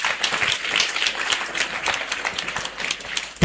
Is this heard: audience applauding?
yes